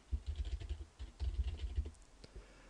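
Typing a file name on a computer keyboard: a quick run of soft, close key clicks in two short bursts, with no voices.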